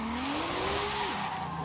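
Car drifting in the racing video game Forza Horizon 5, a steady engine whine with a sustained tire squeal that rises and then drops, loud and continuous over a brief stretch.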